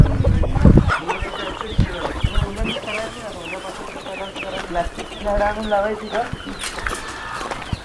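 Free-range chickens on a poultry farm cluck repeatedly and fairly close, with a sharp knock near the start and a person talking amid the birds.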